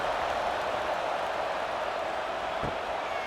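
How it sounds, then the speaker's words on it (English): Stadium crowd buzzing in the video game EA College Football 26 at Troy at Clemson, a steady, dense roar of distant voices with no breaks, alone without commentary. "this crowd is buzzing after that last score"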